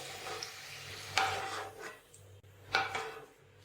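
Boiled potatoes lifted out of a pot one scoop at a time: two distinct clinks of a utensil against the pot, each followed by soft scraping and wet shuffling, quiet and close.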